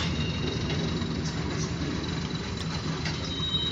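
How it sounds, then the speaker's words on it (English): An OC&T short grain hopper freight train rolls past, a steady heavy rumble of rail cars with a faint high squeal, close and continuous, with no voices. "And this train engine"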